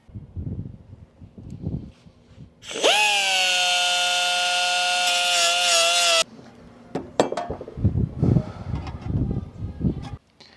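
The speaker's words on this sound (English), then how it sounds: "Maybe a cutoff wheel just to get at it a little bit." A cutoff wheel grinds out spot welds on a Y-block Ford valve cover, giving a loud, steady high-pitched whine for several seconds. Clanks and handling noises from the metal part come before and after.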